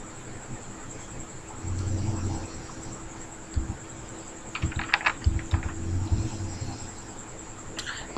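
Keys tapped on a computer keyboard while entering a translation search, short clustered bursts of clicks close by over a steady high whine and faint room hum.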